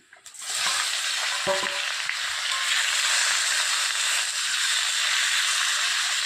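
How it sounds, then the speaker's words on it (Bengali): Potatoes frying in a wok with panch phoron, a loud, steady sizzle that bursts in after a brief clatter and holds continuously with no talk. "আলুগুলো একটু ভালোভাবে ভাজতে হবে, লাল লাল করে দিই"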